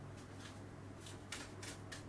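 Tarot and oracle cards being shuffled by hand, soft papery riffles in several quick bursts over a low steady hum, faint and close.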